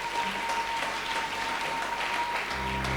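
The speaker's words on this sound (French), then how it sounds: "Tu n'arrêtes pas d'acclamer jusqu'à ce que l'homme de Dieu va approcher." A church congregation applauds and acclaims a visiting apostle at an executive conference, with steady, dense clapping throughout and a low musical drone beneath that rises near the end.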